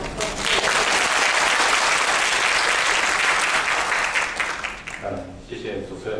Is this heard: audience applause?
yes